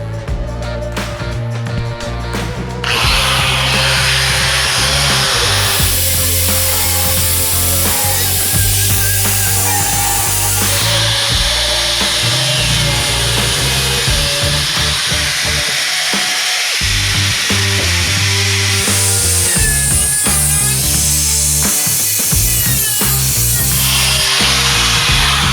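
A power tool cuts into the fender of a Nissan 350Z being trimmed for a widebody kit, running loud and steady through most of the stretch, with a brief pause in the middle before the cutting resumes.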